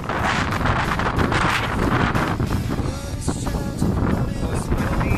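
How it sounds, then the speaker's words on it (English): Strong wind buffets the microphone on a foggy, rainy, muddy mountain trek, a loud continuous roaring rush that gusts and swells throughout. "So it's windy, foggy, rainy, muddy, slippery, all in one package."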